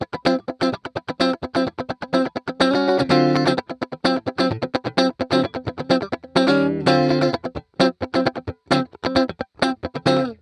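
A PRS Silver Sky electric guitar plays choppy, staccato funk-style rhythm with a bright tone, short percussive strums alternating with a few sustained chords, loud and close.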